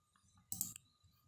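Computer mouse clicking while copying a table in Google Docs, a quick double click, sharp and close, standing out against a quiet room.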